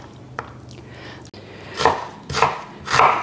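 A knife chops onions on a board, giving a few sharp, close cutting strikes in an uneven rhythm, growing louder toward the end, with no talk.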